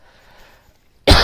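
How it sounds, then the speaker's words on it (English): A single sharp, loud cough bursts out at the very end after near silence, close to the microphone. "I'm so sorry about coughing on you guys."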